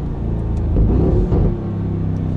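A Mansory G63 Star Trooper pickup accelerates through the gears, its engine a loud, close rumble that swells mid-clip and then settles lower. No one speaks.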